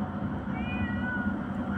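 A cat gives a short, drawn-out meow, a single rising and falling call heard clearly over a steady low background hum.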